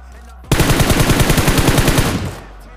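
Rapid automatic gunfire in the mobile shooter BGMI, a loud, close burst of evenly spaced shots lasting about a second and a half before it cuts off and trails away.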